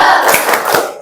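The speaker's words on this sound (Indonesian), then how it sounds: "Ibu akan memberikan tepuk semangat." A school class doing a rhythmic tepuk semangat spirit clap together, a brief loud burst of group hand claps in a quick patterned rhythm, heard close up in the classroom.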